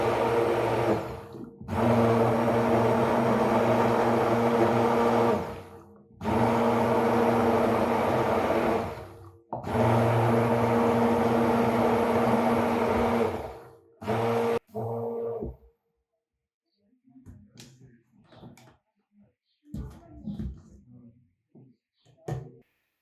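A Bosch blender whirs loudly while blending a banana shake with milk, running in several long bursts separated by short pauses, then stopping; afterwards faint handling noises and quiet talk follow.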